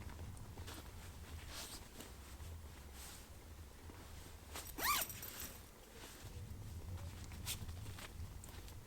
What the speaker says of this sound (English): if you do decide to zip it up